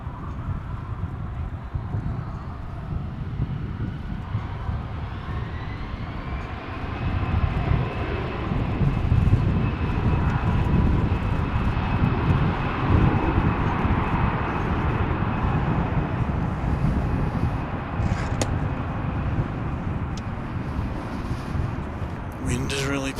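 An airliner takes off from runway 18 Left at Dallas/Fort Worth Airport in gusty wind, its engine roar building after a few seconds and holding steady and loud, a broad sustained rumble with a whining tone on top.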